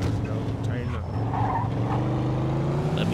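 Car in the video game Mafia II driving fast with skidding tires, a steady engine roar with brief tire squeals, heard under people talking.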